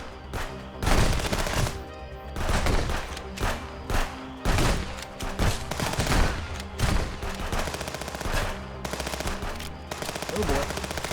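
Gunfire in the video game Wizard with a Gun: rapid repeated bursts of shots over a busy game soundtrack, steady and fairly loud across the whole stretch, with occasional voice underneath.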